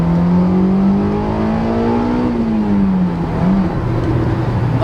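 A rebuilt Honda S2000 F20C engine pulls hard under power, its loud tone climbing steadily in pitch, dipping briefly and rising again as the car accelerates, with no talk over it.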